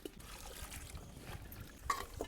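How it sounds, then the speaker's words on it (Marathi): Freshly picked kartule, spiny gourds, being washed in water: faint, soft sloshing and trickling with a few small splashes and clinks, quiet and close. "हे आता चांगले आपल्याला दोन पाण्याने धुवून घ्यायचे"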